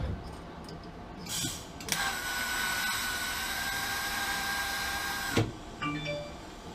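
Tack welding on the other side of a part for a Mustang drift build: a steady, buzzing, crackling weld of about three and a half seconds, bracketed by brief clanks and handling noise.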